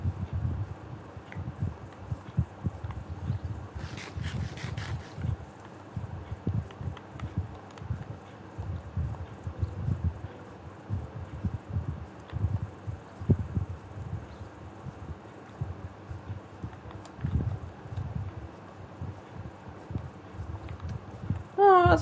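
Donkey hooves clip-clopping in Minecraft, a steady run of soft, low footfalls near the listener over about twenty seconds, with a brief brighter rustle early on and game ambience underneath.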